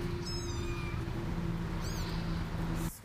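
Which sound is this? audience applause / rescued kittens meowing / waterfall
rescued kittens meowing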